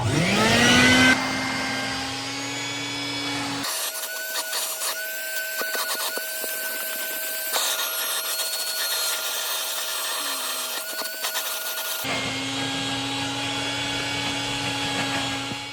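A Stinger wet/dry shop vac with its bag installed, run over carpet: a steady whining motor drone with tonal hums that shifts in pitch and texture partway through, continuous and close with no talking.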